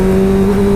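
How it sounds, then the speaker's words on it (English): Motorcycle engine, ridden on the road while downshifting gears, holds a steady, loud droning tone throughout with no voices. "But that is what you call engine braking."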